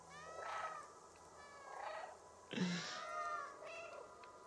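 A cat in the game Stray gives several separate meows, close and clear, with a soft ambient background.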